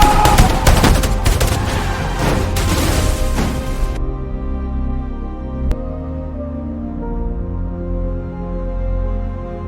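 Gunfire sound effect in a bank heist audio drama, a loud rapid burst of automatic fire lasting a few seconds, then a lone sharp shot over a low rumbling music bed.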